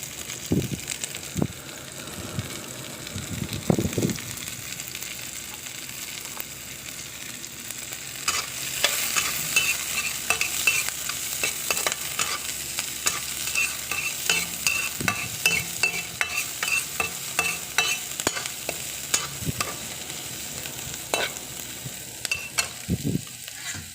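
Onions sautéing in a pan with other ingredients for goto, a steady close sizzle with frequent spatula stirring scrapes and clacks, loud and without talk.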